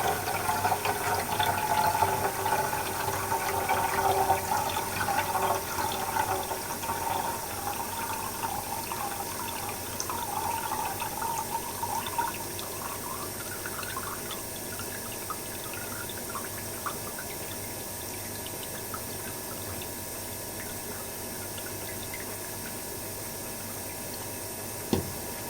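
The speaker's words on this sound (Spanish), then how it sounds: "Simplemente lo que hago es verterlo con mucho cuidado" Water poured slowly and carefully into a new container holding Nothobranchius killifish fry, a long, steady, soft trickling stream that gradually fades quieter, close and without talk.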